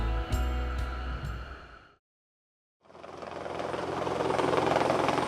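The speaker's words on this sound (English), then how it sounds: "They take a helicopter to work." A helicopter ferrying crew out to the Ensco DS-5 offshore deep-water drilling rig, its steady rotor thump and turbine whine droning loud and close, broken by a brief silent gap before resuming.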